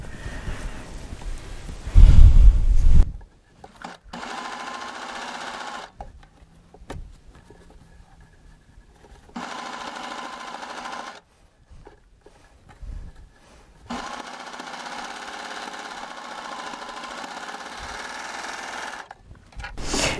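A serger sewing machine stitches a ruffle onto lace in several long steady runs of fast whirring, broken by short pauses and a loud bump near the start.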